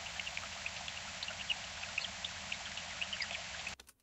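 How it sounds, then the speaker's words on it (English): Generated ambience of a stream beside a summer meadow with birds, a steady hiss of flowing water dotted with faint chirps and drips, cutting off abruptly near the end. "Yeah, sounds like a stream near a summer meadow."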